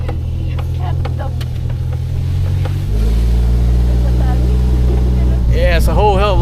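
Engine of a small truck drones steadily up close while riding in the back on the way to a village, shifting to a deeper, louder rumble partway through as it picks up.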